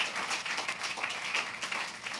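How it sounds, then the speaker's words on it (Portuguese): A church congregation claps together after a sermon, a dense, steady spatter of applause at moderate volume with no speech over it. "Aplaudimos para Deus."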